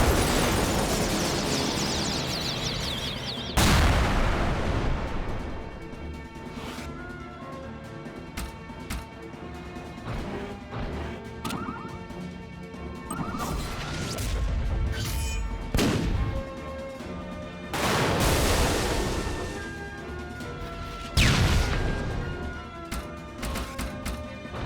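Missile launches and loud explosions in the tactical game Tiny Metal: Full Metal Rumble, repeated sharp blasts over a backdrop of game music, spaced out across the sequence.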